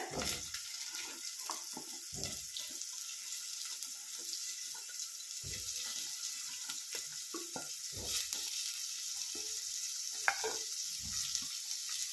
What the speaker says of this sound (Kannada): ಈಗ ಡೈರೆಕ್ಟಾಗಿ ನಾನು ತೊಳೆದು ಚಿಕ್ಕ ಚಿಕ್ಕ ಕಟ್ ಮಾಡಿಟ್ಟಿರೋ ಸೌತೆಕಾಯಿ ಹಾಕ್ತಾವಳೆ